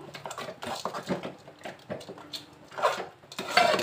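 Khichuri made with atap rice is stirred in a cooking pot, a spoon scraping and clinking against the pot in short uneven strokes, close and fairly quiet.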